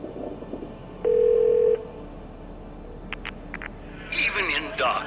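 A church answering machine plays during a phone call in a video game: a steady electronic beep, a few short tone blips, then a recorded voice begins over faint background hiss.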